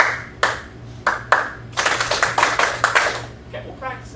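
A class clapping hands together in rhythm, several sharp group claps spaced apart, then a denser run of claps, with a teacher talking in between and a low hum underneath.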